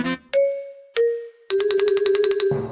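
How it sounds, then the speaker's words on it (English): A small bell chimes in a cartoon scene: two clear separate dings, then a quick rapid run of tinkling strikes that rings on and fades, bright and close. "Peppa touches the bell, and it rings softly."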